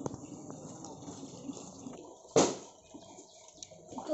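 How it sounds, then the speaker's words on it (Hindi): Water is poured onto sun-parched potted plants: soft trickles and drips at first, then a brief louder splash midway, followed by quieter dribbling close by. "तो पानी देना पौधे में स्टार्ट करते हैं।"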